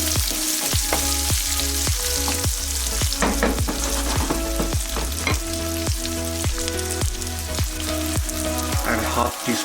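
Garlic and diced onions sautéing in a pan, a loud, dense frying sizzle with regular scraping strokes of a spatula against the pan throughout, close up and with no voices.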